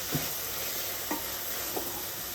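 Fried chicken being tossed into rava biryani in a pot, three soft scraping stirs spaced about a second apart over a steady gentle frying sizzle, close and quiet, no voices.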